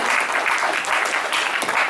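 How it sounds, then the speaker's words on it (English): Audience applause at an Everfree Northwest 2019 brony convention panel: dense, steady clapping from a full room, loud and continuous for the whole stretch with no voices over it. "Applause"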